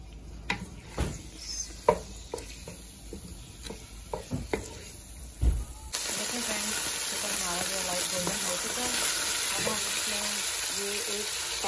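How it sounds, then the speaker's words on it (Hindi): Chicken fries lightly in a pan for haleem. Several loud clanks and scrapes of stirring open the sequence, then a dense, bright sizzle swells and holds steadily under faint background sounds. "चिकन को हल्का सा हमने भूनना है"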